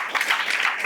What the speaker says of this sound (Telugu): చప్పట్లు కొట్టి ప్రభువు నామాన్ని కనపరుచుకోండి